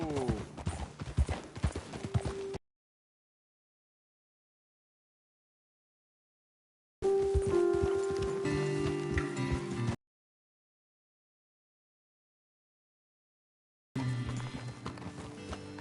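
Horse hooves clip-clop in Red Dead Redemption 2 in three separate bursts of rapid, close hoofbeats with silent gaps between them, as riders pull up to dismount in the mountains.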